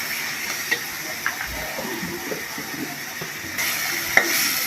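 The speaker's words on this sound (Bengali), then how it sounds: "একটু নেড়ে নিলাম।" Onion, garlic and ginger paste is stirred in a pan while cooking tilapia curry, producing a faint, steady sizzle with a few soft scraping clicks from the utensil scattered through it.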